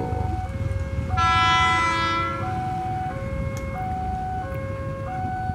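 A JR 203 KRL commuter train on the Rangkas Bitung to Tanah Abang line passes a level crossing, with alternating two-tone crossing bells ringing continuously over a low rolling rumble of the train.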